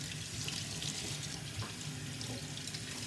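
Cold tap water runs steadily over a sieve holding collected tomato seeds. A continuous close hiss of splashing water goes on without pause, with no talk.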